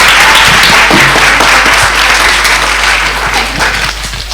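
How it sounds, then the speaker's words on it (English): A theatre audience applauds loudly at a school stage production of Roald Dahl's Matilda, with dense, sustained clapping that tapers slightly toward the end. "Another round of applause."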